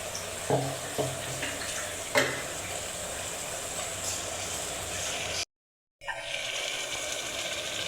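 A steady bubbling sizzle from a pot of mutton curry with a few scraping stirs early on, briefly cut to silence before the simmering resumes.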